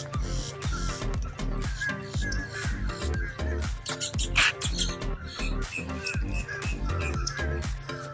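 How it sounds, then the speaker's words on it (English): Loud birds squawking and calling at Kissimmee Lakefront Park by the lake, a dense constant chorus of harsh calls with other noise mixed in. "Can't get over these birds and all the noises they're making."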